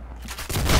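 Gunfire in the Roblox-style shooter game Arsenal, a short burst of rapid shots building from quiet to loud over under a second, close and dense with no voice over it.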